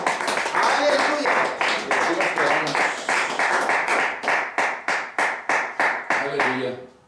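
A church congregation claps together for several seconds, the applause settling into a steady rhythmic beat of distinct claps before fading out.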